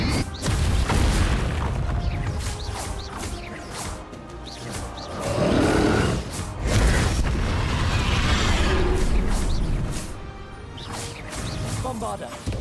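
Fiery spell explosions from Hogwarts Legacy on Switch, blasting again and again during the boss fight against Ranrok and his dragon. Booming bursts roll through a dense, continuous din of battle effects and music.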